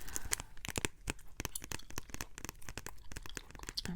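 Trading card packs are torn open up close, a dense run of crinkly foil tearing and crackling with sharp little rips, quiet and intimate in tone.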